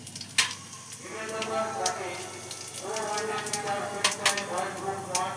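Whole cumin seeds crackle and sizzle in hot oil in a pan for a Bengali mung dal and taro dish. A soft, steady frying hiss with small pops runs throughout, with faint voice-like sounds in the background.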